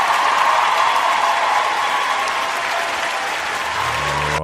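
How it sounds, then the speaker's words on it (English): A live audience breaks into loud, sustained applause for a trader at an event, a dense wash of clapping that holds steady before cutting off at the end. "let's just give a big round of applause for Ruan Janssen van Vieren"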